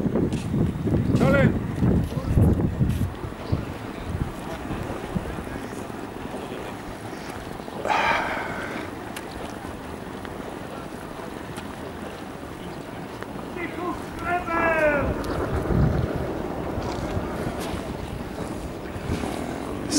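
A raft built near Wrocław drifts along a river in steady wind, with a continuous rumble of wind buffeting the microphone and water swishing against the raft, while people talk and call out intermittently over it.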